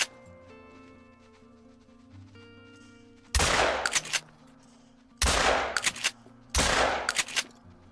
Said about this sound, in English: I'll just start shooting.